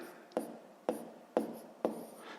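A pen writes out the second step of a sixth-grade maths problem, four distinct scratchy strokes tapping onto paper at an even pace, close and clear with no talk.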